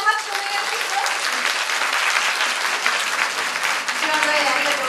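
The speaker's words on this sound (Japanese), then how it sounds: "盛大な拍手をお願いします。" Loud, sustained applause from a large crowd at a press conference in Japan, dense steady clapping filling the whole stretch without a break.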